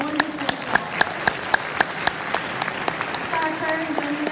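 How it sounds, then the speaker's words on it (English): An audience at an evening gathering claps in steady applause, with sharp individual claps standing out over the crowd while a voice speaks over the clapping. "For all the ladies here, please clap for yourself."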